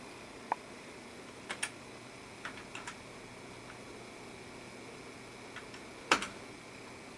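Faint, scattered key presses on a computer keyboard in a quiet room, a few isolated clicks and short pairs spread out over several seconds with no talking.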